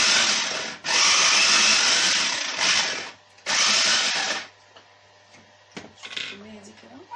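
Electric chopper mincing onion and garlic, with two loud sustained whirring bursts, then a shorter pulse and some clatter as the blades stop.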